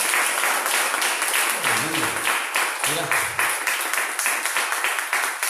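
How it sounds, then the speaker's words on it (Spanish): A church congregation claps together during a Sunday morning service, a steady dense applause filling the room while a voice speaks over it. "¿Cuántos pueden dar un aplauso al Señor en esta mañana?"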